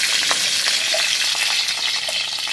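Potatoes sizzle steadily in hot oil with five-spice, dried chilli and bay leaf, a loud continuous frying hiss with small pops and stirring, no voices.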